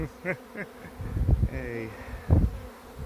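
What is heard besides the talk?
honey bee swarm buzzing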